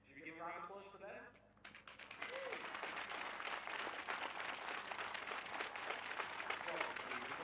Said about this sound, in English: Should we give a round of applause to them?